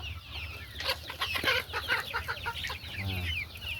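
Chickens in a poultry house cluck in short, repeated bursts close by, with a low steady hum in the background and no talk.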